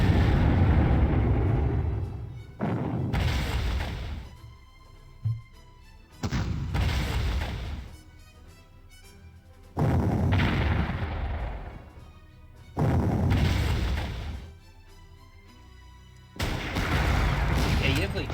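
Tank and artillery gunfire in the World War II strategy game Panzer Corps, with repeated loud booming blasts in bursts separated by short quieter gaps.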